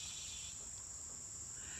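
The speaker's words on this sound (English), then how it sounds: "Let the cicadas do the talking." A steady, shrill insect buzz like cicadas drones continuously at an even level, with no pauses or voices.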